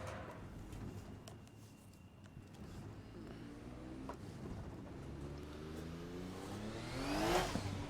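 A race car mod in Assetto Corsa at a Goodwood Festival of Speed hillclimb revs its turbocharged engine, with a low drone climbing into a rising whine that peaks loudly near the end.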